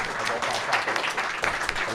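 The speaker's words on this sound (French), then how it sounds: "chaudement d'applaudissements pour nos présentateurs" A steady patter of applause from a seated audience at a Protestant–Orthodox debate, fairly close and continuous for the full two seconds.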